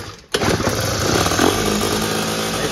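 A cheap secondhand scooter engine catches after a short silence and settles into a loud, steady buzzing idle close by, running continuously with no talk.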